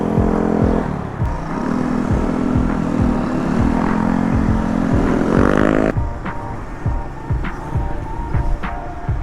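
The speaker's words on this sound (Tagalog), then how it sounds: "This one's traffic" Road traffic heard as a steady engine drone with a rising tonal whine from a passing vehicle, then a rhythmic series of pulsing thumps, loud and close throughout, no speech.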